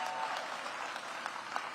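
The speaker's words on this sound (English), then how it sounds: "Please give Dr. Mitchell a big round of applause" Audience applause for an education official at a mayor's back-to-school welcome event for public school educators: steady, dense clapping from a sizable crowd that fills the whole short stretch alone.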